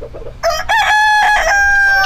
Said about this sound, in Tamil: நல்லா பிராய்லர் கோழி மாதிரி இருக்கு இல்லையா? Silky white silky.